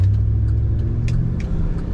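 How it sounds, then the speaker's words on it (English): A red 2005 Chevrolet SSR with automatic transmission runs steadily, its exhaust giving a continuous deep, even rumble close by with no talking over it. "Nice exhaust sound."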